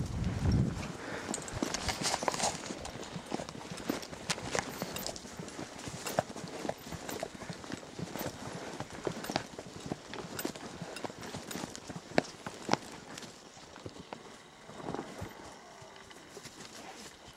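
Horse hooves clip-clop steadily at a walking pace while riding out toward a ridge, close and continuous for the whole stretch, with occasional creaks and rustles and no talk.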